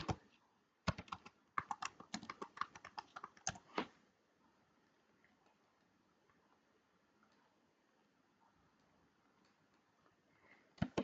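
Computer keyboard typing in Canva while building a table design: a quick flurry of close, crisp key clicks for about four seconds, then near silence, with a few more taps at the very end.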